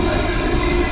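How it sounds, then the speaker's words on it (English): A train on a backpacking trip through Germany rumbles steadily as it comes to a stop, a loud, continuous low drone with no voices. "Train stops."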